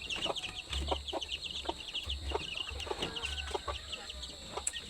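Pet chickens and chicks cluck and peep close by, with frequent short calls and high chirps layered over a low background rumble.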